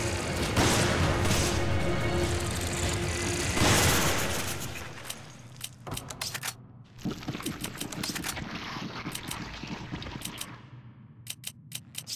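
Gunfire in Resident Evil 5 comes as rapid bursts of game shots with mechanical clicks and clatter. It is dense and loud at first, then breaks into sparser, sharp reports.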